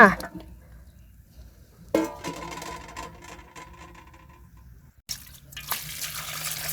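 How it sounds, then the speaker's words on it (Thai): Boiled water is poured off a pot of bamboo shoots while making Isan-style bamboo shoot curry, giving a splashing rush and dripping in bursts, with kitchen clatter between pours. "หลังจากต้มได้ทีแล้วก็มาเทน้ำต้มออกจ้า"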